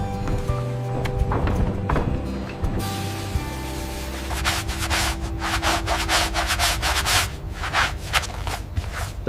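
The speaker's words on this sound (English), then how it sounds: "The surface is meticulously sanded to create the iconic velvety finish, the Nubuck texture." Hippo leather surface sanded to a velvety nubuck finish by factory machinery, a loud continuous rasping rub over a droning motor hum with rhythmic repeated scraping strokes, close, no talk.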